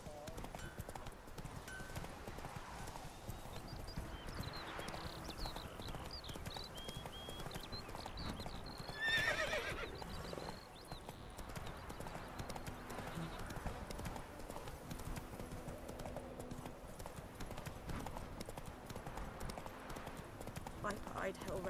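Roach, the horse in The Witcher 3, gallops with a steady, close clip-clop of hooves that keeps up throughout, with faint voices occasionally underneath.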